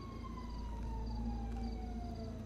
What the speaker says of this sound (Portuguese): Estou a ver sirenes.